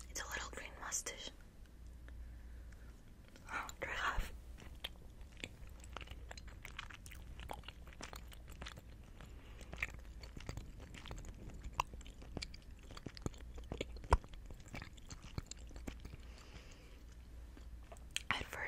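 Close, intimate chewing and crunching of food for ASMR, wet mouth sounds and bites recurring throughout, with soft whispering and talk in between.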